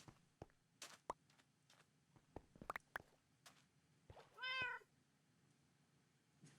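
A cat meows clearly once, a drawn-out mid-length call, among scattered soft thumps and footstep-like clicks in a quiet Minecraft game scene.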